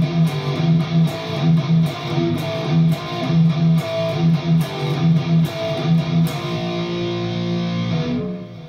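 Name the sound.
distorted electric guitar playing thrash metal power chord riff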